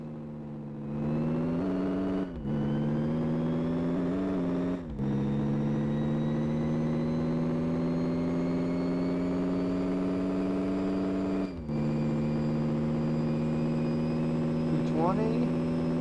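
A car engine revs and holds a steady, loud drone in a garage, its pitch stepping up and dipping slightly several times with brief cuts between, while a voice talks faintly over it.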